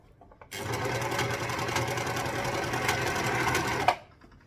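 A sewing machine stitches a dress seam in one continuous, steady whirring run of about three and a half seconds, close and fairly quiet, starting and stopping abruptly.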